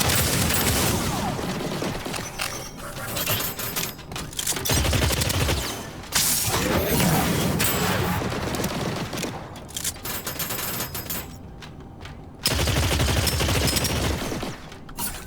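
Continuous heavy gunfire from a hard-recoiling weapon in the video game Deadzone: Rogue, loud bursts of rapid shots with brief pauses between, filling the whole stretch.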